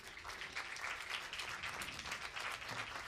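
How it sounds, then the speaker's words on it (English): Spectators applaud skeet shooting medalists, including the bronze medalist, at a shooting competition: continuous crowd clapping, faint and distant, with an even texture for a few seconds. "And also big applause for the bronze medalist"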